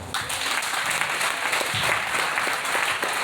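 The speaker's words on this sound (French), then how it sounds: "je voudrais simplement que la communauté nous acclame" An audience at the final of a singing talent contest applauds loudly and continuously, a dense wash of clapping from start to finish.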